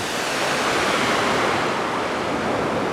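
Steady, full-bodied rush of falling water at Sojeongbang waterfall on Jeju, South Korea, a constant broadband roar with no pauses, close and loud, with no voices.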